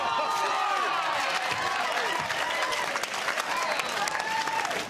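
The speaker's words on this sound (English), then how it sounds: "and a round of applause" Studio audience on a television show applauds steadily for about five seconds, dense clapping with some cheering, loud and continuous without speech on top.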